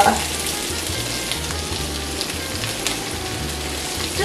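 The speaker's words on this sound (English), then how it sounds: "Kale, oh, I love that sound. The sizzling, we love it" Kale sizzles steadily in a hot pan, a dense crackling hiss that holds at the same level throughout with no voices.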